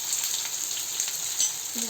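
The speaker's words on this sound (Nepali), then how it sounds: "लसुन र प्याजलाई पहिले भुट्छु यसरी मजाले" Onion and garlic frying in hot oil with cumin for a paneer curry, a steady close sizzle with a brief scrape of stirring near the end.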